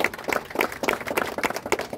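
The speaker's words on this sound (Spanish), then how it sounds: "Un fuerte aplauso para ustedes que están aquí" A crowd claps steadily, a dense patter of applause throughout the moment.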